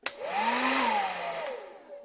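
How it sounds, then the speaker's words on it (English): A hair dryer whirs steadily for about two seconds, drying paint on a fishing lure, with a rising and falling motor whine over a broad rush of blowing air, fairly close. "I just dry it off with this hair dryer"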